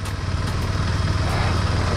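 A motorcycle engine drones steadily up close on an off-road trail, a low rumbling hum with wind noise and no pauses.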